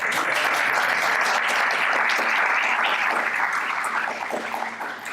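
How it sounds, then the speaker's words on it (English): Steady, dense applause from an audience at a high school leadership luncheon fills the room for several seconds before thinning slightly toward the end. "You may clap."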